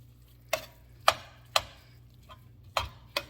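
A utensil knocks against a pan on low heat while a jumbo lump crab and shrimp gratin mixture is stirred, giving five or six sharp, separate clicks spaced about half a second apart over quiet background.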